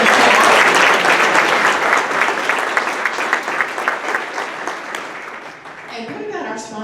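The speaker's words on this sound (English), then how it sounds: "could we give them a round of applause?" A Rotary Club meeting audience breaks into loud, dense applause that gradually thins and tapers over several seconds before someone starts talking.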